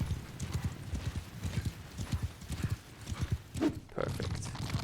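Horse hooves in Mount & Blade clip-clop in a quick, steady rhythm of soft close thuds, with a brief whinny-like burst near the end, moderately faint.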